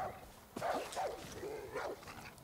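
Dog barking in Far Cry 5, a crazed-acting dog harassing sheep, with several agitated barks and yelps in a quick irregular burst, moderately close over faint game ambience.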